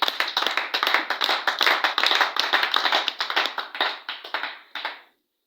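A congregation claps together in a steady, brisk rhythm to acclaim the Lord, loud and close, the hand claps slowing and thinning before stopping abruptly near the end.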